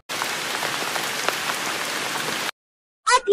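Steady rain pours down on a wet outdoor school sports event, a dense continuous hiss for about two and a half seconds, then cuts to silence before a short burst of voices.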